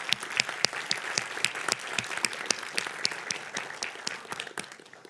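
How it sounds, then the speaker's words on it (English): Audience applause at a conference talk on C/C++ compilation time, a dense crowd of many hands clapping steadily and fairly loudly for about five seconds with no voices over it. "please, round of applause for Piotr Osiewicz"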